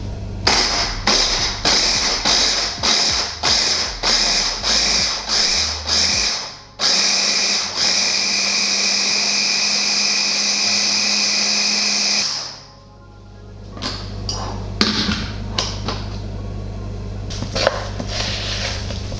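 A Blitz blender whirs in repeated short pulses and then a longer sustained run while mixing vegan cake batter, loud and close, then cuts out before a few clattering handling sounds.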